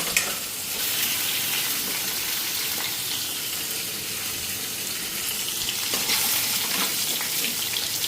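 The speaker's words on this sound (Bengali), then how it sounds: "পনিরটা বেশি ভাজুন না, হালকা ভাজুন" Paneer being lightly fried in oil in a pan, a steady, hissing sizzle that runs without a break at moderate loudness, with faint stirring scrapes here and there and no talk.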